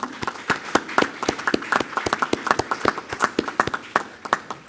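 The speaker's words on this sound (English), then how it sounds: "Can we all give them a round of applause?" Attendees at a city commission meeting in Independence give a round of applause, a steady stretch of crisp, distinct hand claps from a modest group in a meeting room. It stays moderately loud throughout, with no voices over it.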